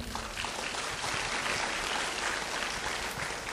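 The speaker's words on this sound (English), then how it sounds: "Please give him a warm applause once again." Steady applause from an audience, dense clapping that holds evenly from start to finish with no voices over it.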